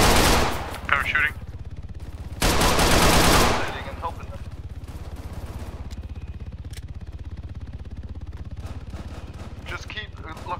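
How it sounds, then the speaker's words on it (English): Arma 3 gunfire from an online roleplay match: loud bursts of rapid automatic shots, sharpest near the start and around the three-second mark, then continuing as quieter scattered fire and clatter. "I'm shooting."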